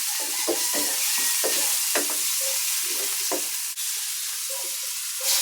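Garlic and onion sauté in a pan, giving a soft continuous sizzle under intermittent stirring scrapes and taps, close and moderately quiet.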